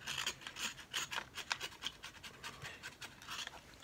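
A small sharp blade scrapes heavy rust and crud off a stuck brake on a Honda CB750 motorcycle, giving a run of short, rapid scratchy strokes at close range with no talking.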